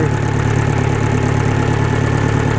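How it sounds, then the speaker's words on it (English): An Atomic 4 marine gasoline engine, rebuilt in bronze, idles close and loud with a steady, even hum and faint rhythmic pulsing throughout. "Revs up very smoothly. You can hear that from the engine sound."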